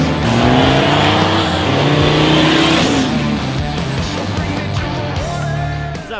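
Loud race car engines roar and rev continuously on a dirt track during a night race, with whining high-pitched tones and some tire noise, close and unbroken for several seconds.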